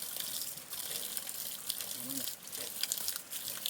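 River flowing through a jungle, a continuous gushing wash of water nearby, fairly loud and steady, with faint speech-like sounds at times.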